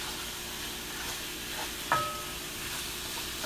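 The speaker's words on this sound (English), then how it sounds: "So I'm just stir frying." Ground turkey stir frying in a pan with onions and garlic, giving a steady low sizzle throughout with one brief louder clink or scrape near the middle.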